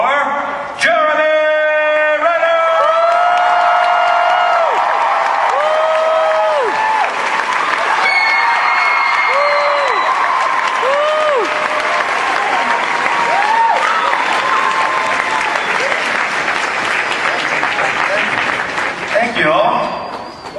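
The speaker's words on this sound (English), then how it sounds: "make some noise for Jeremy!" Loud, sustained applause and cheering from a large Wizard World Chicago Comic Con crowd welcoming a guest onstage, with whoops and whistles rising over continuous clapping for about twenty seconds.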